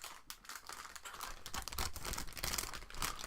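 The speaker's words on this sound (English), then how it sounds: "I'm sorry about the plastic noise." Plastic model kit runners for a PG Strike Rouge being handled, a faint run of close crinkling, clicking and rustling plastic, uneven and busy, with no talk.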